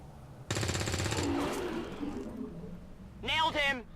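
Rapid burst of gunfire from a soldier's weapon in the XCOM 2 video game, a dense rattling volley lasting about a second, with game voices talking over and after it.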